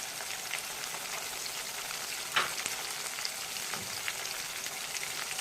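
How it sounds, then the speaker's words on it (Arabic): Cumin, black pepper, a cinnamon stick and salt sizzle steadily in a hot pan, a continuous close frying hiss with a brief louder crackle midway, no voices. "بشوحهم كويس"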